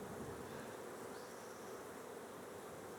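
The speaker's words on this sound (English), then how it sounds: "Getting busy though, busy little bees." A steady, dense buzzing of many honeybees at a hive, continuous and even, filling the space without pauses or voices.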